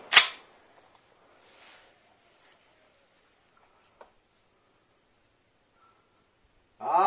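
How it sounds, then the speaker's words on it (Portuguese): A 20-gauge shotgun with full choke fires a reloaded shell of number 6 birdshot at a clay target about 30 m away: one sharp loud blast at the start, then near silence with faint sounds, and a voice rising at the end. "vamos ver se eu consigo acertar no pratinho com essa espingarda"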